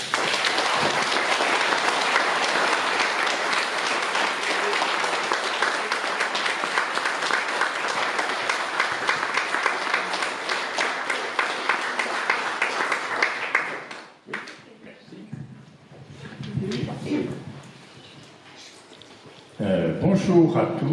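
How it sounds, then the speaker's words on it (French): Sustained, dense applause from an assembled audience at a public ceremony fills the first fourteen seconds loudly, then gives way to quieter room sounds and speech. "je souhaiterais maintenant qu'on vous applaudisse vraiment de manière très appuyée"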